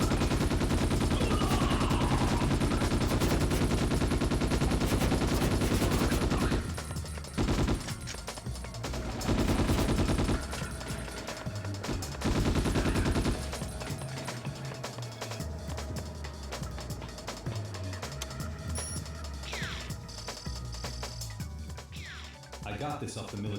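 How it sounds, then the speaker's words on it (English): Rapid bursts of automatic gunfire from a loud gun in a Ghost in the Shell video game, dense and sustained at first, then broken into shorter volleys with pauses, heavily layered with game audio. "This is the loudest gun I've ever heard in my life."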